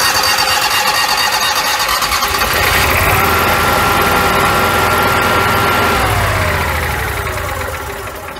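The onboard generator of a Thor Outlaw 37RB motorhome starts and runs with a loud, steady, droning engine hum up close. A faint tonal whine rises partway through, and the sound eases slightly toward the end.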